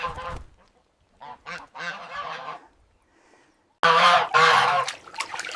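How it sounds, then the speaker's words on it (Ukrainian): A goose being bathed honks in loud, close bursts: a brief call, then several short honks, a pause, and a final long, strident run of honking. "Мию гуся, Васю, щоб був чистим"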